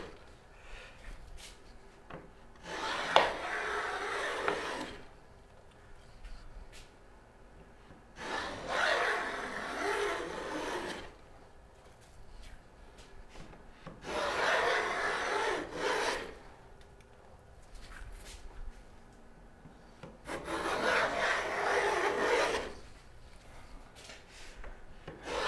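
A hand plane shaves wood in four long, steady strokes spaced a few seconds apart, each a loud rasping hiss followed by a quieter pause.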